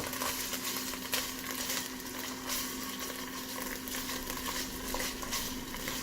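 Vegan Thai red curry paste of red chili, garlic, pepper, lemongrass, shallots, coriander root and lime peel frying in a pan, a steady broad sizzle with scraping stirs, close and continuous, no talk.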